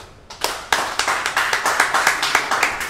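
Applause from an audience at a mini concert, a steady run of hand claps that swells quickly and keeps a fairly even, dense rhythm throughout.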